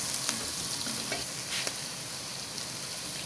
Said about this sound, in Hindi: इसको अच्छी तरह से मिक्स करेंगे और फ्लेम को नीचे से हम लो कर देंगे।